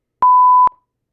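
A single pure electronic beep from a censor beeper program written in Python, steady and loud for about half a second with a sharp start and stop, heard alone.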